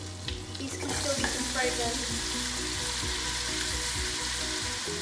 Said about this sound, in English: Grind this around now to make sure everything in this pan is nicely coated with the butter and the oil